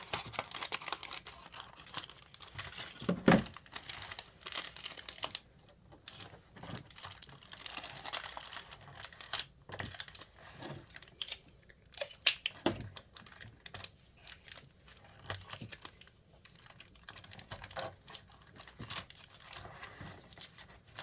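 Craft material being trimmed for a Christmas diorama, close irregular snipping, tearing and rustling crackles in uneven bursts, with no voices.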